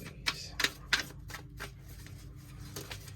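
Tarot cards being shuffled in a quiet room, a handful of sharp riffling bursts near the start followed by softer, scattered card flicks; no talking.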